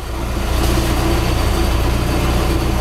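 A Chris Craft Scorpion boat engine idles smoothly, a loud steady low throb with a fine rhythmic pulse, heard close and alone without any talk.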